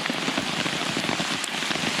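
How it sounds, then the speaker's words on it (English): Heavy rain pounds a Catoma Stealth 1 tent in a steady, dense hiss of countless close drops, with no voices and no let-up. "it's simply raining too hard"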